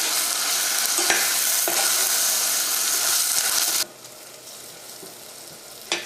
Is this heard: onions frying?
yes